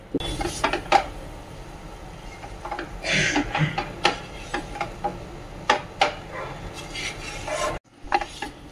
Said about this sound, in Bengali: কর্নফ্লোর দিয়ে এখন এটাকে ভালো করে মিশাতে থাকতে হবে, গুটলি যাতে না হয়